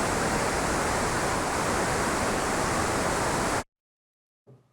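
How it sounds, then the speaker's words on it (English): Steady broadband static from an online hearing test plays loud and unbroken for about three and a half seconds, then cuts off abruptly to silence before a faint murmur. "I heard nothing but static."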